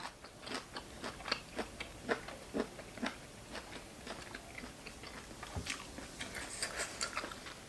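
Crunchy chewing of giant cuttlefish tentacles served with a thick, spicy fermented-fish seafood dipping sauce, a quiet, close series of irregular crisp bites and crunches with no talking.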